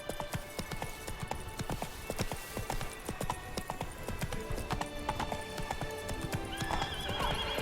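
A horse in The Witcher 3 gallops with a fast, continuous clip-clop of hooves, then gives a neigh near the end, fairly quiet throughout.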